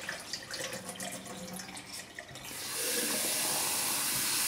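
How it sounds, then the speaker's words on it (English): Water runs into a wheatgrass sprouting jar fitted with a wire mesh lid to rinse the seeds, starting as a softer trickle and swelling after a couple of seconds into a loud, steady rush of filling water. "So you just strain the water out and fill it up again and give it a rinse a couple of times."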